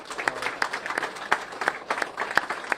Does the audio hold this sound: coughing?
no